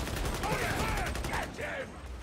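Video game gunfire rattles in a steady rapid fusillade under a shouted in-game voice line, dense and moderately loud throughout.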